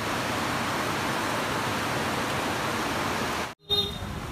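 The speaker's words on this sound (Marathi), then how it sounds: "अब धबधबा चालू झालाय, धबधबा" A steady, dense roar of a waterfall in heavy rain fills the clip, broad and unbroken, before a brief dropout and a slightly thinner continuation.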